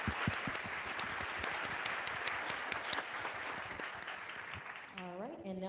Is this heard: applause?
yes